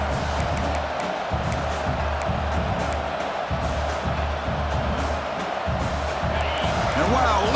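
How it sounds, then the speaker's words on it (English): A large stadium crowd in the video game EA Sports College Football 26 roars continuously, a dense, loud wall of cheering and shouting that holds steady throughout. "listen to this crowd noise. This stadium is vibrating."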